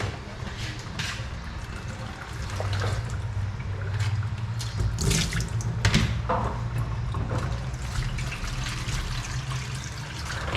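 Water sloshes and pours from a gallon jug in a steady stream for several seconds, with a few knocks and handling clatters, close by and fairly loud, no talking.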